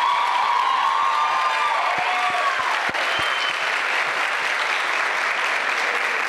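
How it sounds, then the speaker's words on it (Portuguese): Audience applause at a Brazilian cinema catwalk fashion show, greeting a young model: a dense wash of many hands clapping with some cheering and whoops, continuous and loud throughout. "Uma salva de palmas, por favor"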